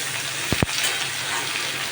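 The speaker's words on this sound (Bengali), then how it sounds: "দেখো, আলু বেগুনগুলো ভাজা হয়ে আসছে।" Potatoes and eggplant frying in a pan give off a steady, dense hiss of oil. A couple of short scraping stir strokes sound near the middle.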